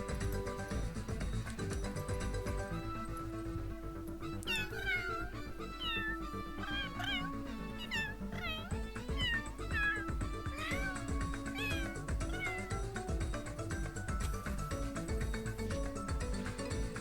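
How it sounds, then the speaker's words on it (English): A cat in The Sims 3 meows repeatedly in short rising calls, several in a row from mid-clip onward, sitting over steady game background music. "Oh, it's a cat."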